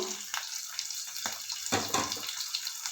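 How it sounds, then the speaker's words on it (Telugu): Onions, green chillies and curry leaves frying together in heated oil, a close, hissing sizzle with bursts of crackling and spatter rising and falling, and no one speaking. "ఇప్పుడు ఈ ఉల్లిపాయలు, పచ్చిమిరపకాయలు కొంచెం సేపు అండి, ఒక 2 నిమిషాలు వేగితే చాలు."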